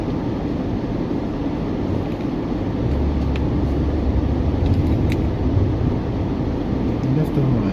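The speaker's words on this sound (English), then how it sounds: "Sorry, I'm letting cars through again." Cars pass along a road in a steady wash of traffic and tyre noise heard from the roadside during an outdoor walk, with someone talking over it.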